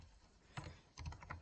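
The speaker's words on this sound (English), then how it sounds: "Sorry if you can hear the typing." Typing on a computer keyboard during a wrestling management game session, heard as soft, fairly quiet keystrokes in a short burst with a small cluster of rapid taps near the end.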